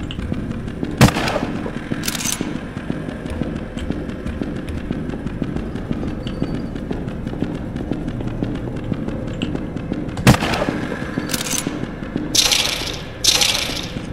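Gunfire in the horror game Carnival Massacre, set in an abandoned carnival: a few sharp, loud shots stand out at spaced intervals over a steady background of game ambience.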